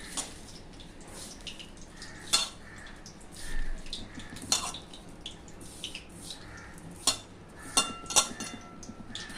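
Cashew pakoda batter with curry leaves is mixed by hand in a bowl, making soft wet squelches and occasional light clinks against the bowl, close up and fairly quiet throughout.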